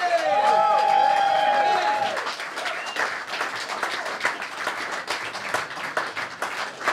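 Jazz club audience at a festival gig in Limerick clapping and cheering for a sextet, loud full applause with whoops at the start that thins into scattered claps.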